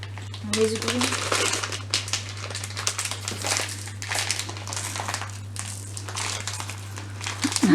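Plastic wrapper of a Korean snack crinkles and tears as it is pulled open, a steady rustling running under people talking close by.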